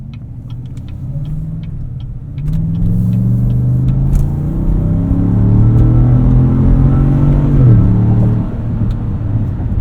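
Chevrolet Tahoe RST Performance Edition with a 6.2 liter V8 accelerating hard, a deep close engine roar rising in pitch through several smooth gear changes of the 10-speed transmission, heard steadily from inside the cabin.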